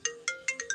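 A mobile phone ringtone sounds alone, up close: five short, bright electronic chime bursts in quick, even succession, each fading slightly before the next.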